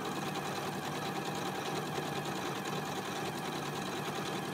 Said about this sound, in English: I'm going to hold my start-stop button in, hold it, and then it goes slow, and I release it, and off it goes